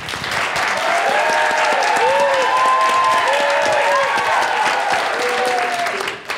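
A farmers market crowd at a game-show-style contest bursts into sustained, dense applause that holds steadily for several seconds before tapering off, with some cheering and voices mixed into the clapping.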